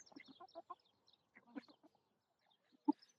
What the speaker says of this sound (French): Ah, il y a le coq. Regardez le coq.